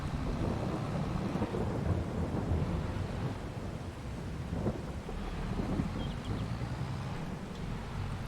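Steady rain with low rumbling thunder in Farming Simulator 22, a continuous moderate wash of rainfall and deep storm rumble throughout with no voices.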